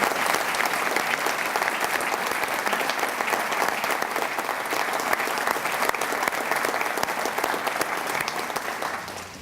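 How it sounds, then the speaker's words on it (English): Sustained audience applause for a city police department at a State of the City address in Shawnee, a dense, steady wash of many hands clapping from start to finish, tapering slightly at the end. "Would you please join me in giving our police department a round of applause?"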